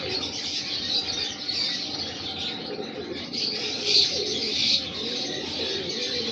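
Soft, low cooing of Kasuri pigeons repeats beneath steady background hiss, with a few faint chirps mixed in.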